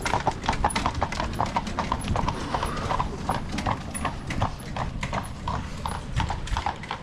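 Horses' hooves clip-clop in a steady, continuous rhythm on a mountain trail near Rysy, the highest peak in Poland, fairly close and busy throughout with faint background voices.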